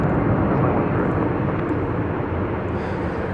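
Dubai airliner arriving on the east side at DFW Airport, a broad continuous engine roar that fades slightly over a few seconds, steady and fairly loud with no voices.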